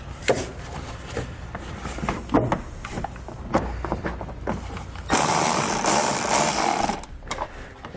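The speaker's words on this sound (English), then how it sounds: "So grab a 10mm socket and we can pull it out." A 10mm bolt comes out of a 2018 Jeep's fender-to-fascia mount with a socket during a Roadmaster crossbar-style base plate install, heard as close, sharp ratchet clicks followed by a steadier whirring burst before the clicking resumes.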